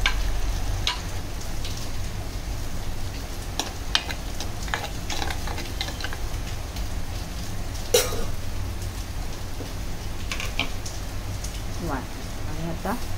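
Finely chopped onion frying in a pan for a Malvani prawn curry, a low steady sizzle with sharp utensil clinks and stirring scrapes.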